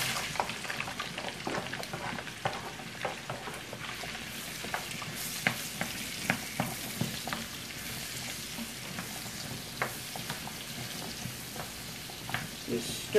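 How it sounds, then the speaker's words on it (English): Onions and mushrooms fry in a pan for savory beef patties, giving a constant soft sizzle broken by frequent light scrapes and taps of stirring, moderately quiet and close. "Now we're going to pour all these onions and mushrooms in that."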